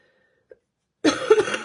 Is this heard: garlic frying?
no